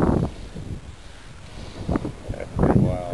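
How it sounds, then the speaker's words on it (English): Wind gusting across the open mountain summit of Black Balsam Knob, rough buffeting bursts hitting the microphone close up, rising and falling in uneven waves. "I like the sound of the wind."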